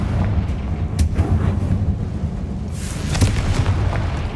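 Confringo blasting spell explosions in the Hogwarts Legacy video game, a dense low rumbling boom that carries on throughout with sharper bursts near the start and again toward the end, loud and close.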